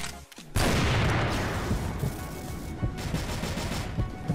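Gunfire in CrossFire, including a Barrett sniper rifle and COP 357, a sudden loud burst of close shots followed by continued rattling fire and reverberant echoes over a few seconds.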